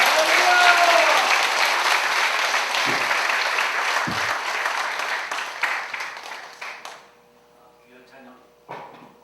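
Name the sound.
applause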